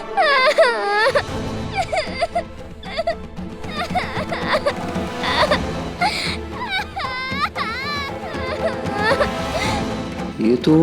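A girl cries in a Hindi television drama, with wavering sobbing and wailing tones that rise and fall in repeated bursts, loud and close, mixed with background music.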